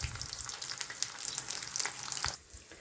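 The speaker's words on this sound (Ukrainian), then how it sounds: "І зараз потрібно обсмажити на пательні." Close, steady sizzling and crackling of zucchini slices frying in a hot pan, with occasional soft pops and a slight dip toward the end.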